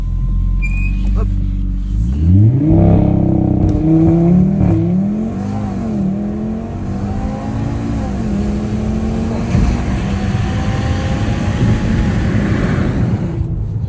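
A BMW M2 launches hard from a loud idle and accelerates, its engine note climbing through several gear changes in a close, sustained roar.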